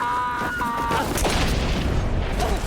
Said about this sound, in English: throw a grenade into their hideout